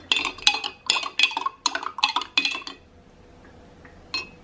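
Food is mixed in a dish with a utensil, a quick run of about seven bright clinking scrapes against the bowl, close and rhythmic, then a pause and one final clink.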